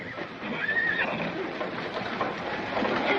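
Horses neighing at a corral in a Western film, a clear whinny rising over a steady, moderately loud background of hoof and ranch noise, with no talk heard.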